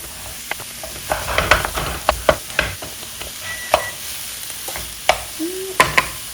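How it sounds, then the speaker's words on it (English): Italian sausage frying in a pan while a utensil breaks it up, a steady sizzle under repeated sharp scrapes and clacks against the pan, close and loud. "Then I'm gonna add in my sausage. Start breaking that up."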